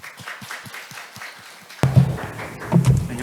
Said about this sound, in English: please welcome Mr. Lee to the stage with a round of applause